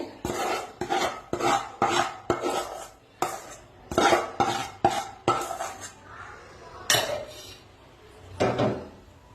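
Melted jaggery and ghee being worked into flour by hand, heard as a run of sharp rasping scrapes and clinks against a metal bowl in quick irregular bursts, close and fairly quiet, with no talk.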